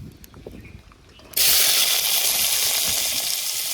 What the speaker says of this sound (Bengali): এরপর আমরা যে কেঁদুরিটা পেরেছিলাম সেই কেঁদুরিটা ভাজবো